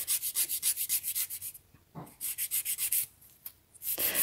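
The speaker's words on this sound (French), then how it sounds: "Donc prenez le temps de bien le limer." A file scraping a gel fingernail into shape, quick rhythmic rasping strokes in fast repeated runs with short breaks, close and crisp, no talking.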